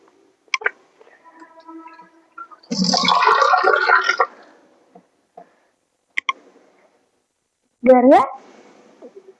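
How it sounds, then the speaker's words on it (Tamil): Water is poured into a pan for cooking Maggi noodles, a close, splashing gush lasting a second or two amid scattered clicks and knocks, with a voice speaking briefly near the end. "முதல்ல தண்ணி ஊற்றிக்கணும்"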